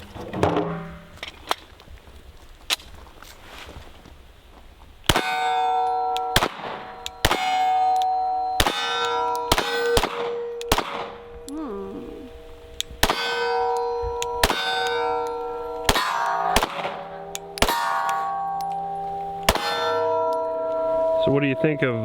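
An old Glock handgun fires a series of irregularly spaced shots, each followed by a sharp ringing clang from steel targets, loud and close.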